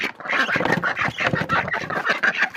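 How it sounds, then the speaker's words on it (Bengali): A group of ducks quacks busily and loudly right after being let out, overlapping calls forming a steady, close chorus with no pauses. "তো এই তো আমি এখন হাঁসগুলা ছাড়তেছি"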